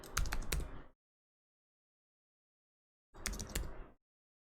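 Typing on a computer keyboard, two short bursts of rapid clicking keystrokes about two seconds apart with silence between, close and fairly quiet.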